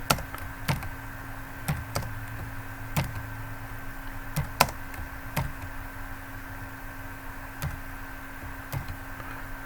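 Keys clack on a computer keyboard while a login page and database table are built, sparse irregular taps spaced over a low steady hum, close and fairly loud, with no talking.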